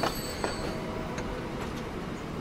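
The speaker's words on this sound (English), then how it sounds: "We now have a newer train." A newer train runs along the track in Transport Fever 2, a steady low rumble of wheels with faint rhythmic clicks, fairly quiet and continuous with no voices.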